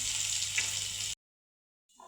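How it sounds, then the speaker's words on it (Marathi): Green chilli paste with mustard seeds, cumin and spices frying in hot oil in a kadai, a steady close sizzle for about a second before cutting to silence, then faint sizzling returns. "मसाले आपले फ्राय झालेले आहे"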